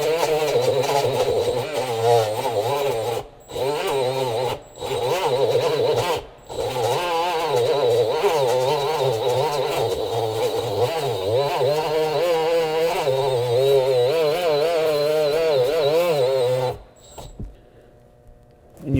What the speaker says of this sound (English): So I'll use my grinder here.